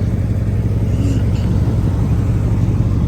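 A 1967 Corvette Stingray roadster with a 427 TriPower V8 runs steadily, a continuous low rumbling idle that stays even and smooth throughout, close by with no talking.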